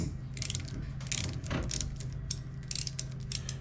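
Ratchet wrench loosening a T27 pinch bolt on the gear head of an Echo string trimmer, a close, continuous run of rapid metallic clicking strokes.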